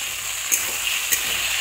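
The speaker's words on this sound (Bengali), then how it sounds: "আলুগুলো একটু ভেজে নেওয়ার পরে আমি এখানে বেগুনগুলো দিয়ে দিলাম।" Eggplant pieces fry in a pan alongside potatoes, making a short burst of steady sizzling with two quick clinks from a utensil, and no talk.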